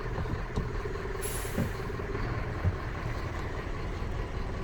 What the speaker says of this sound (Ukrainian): Так, заводиться автомобіль з півоборота. Працює рівно, стабільно, справно